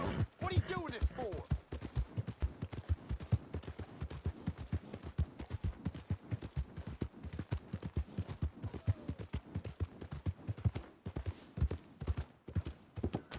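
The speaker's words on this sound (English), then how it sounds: "Damn horse." Horse hooves clip-clop in a steady, rapid rhythm throughout a Red Dead Redemption 2 game scene, close and prominent, with brief voices at the start.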